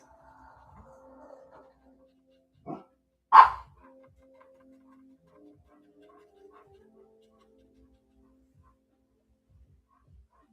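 Dogs barking indoors, two short barks about a second apart, the second louder and nearer, followed by faint knocks and near silence.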